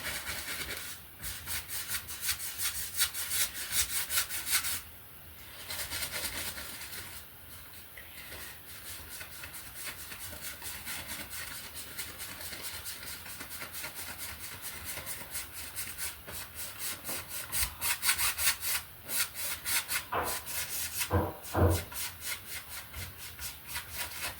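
A bristly paint brush scrubs back and forth on canvas, blending, in a steady, dry rasping rhythm that carries on without pause, close and fairly quiet.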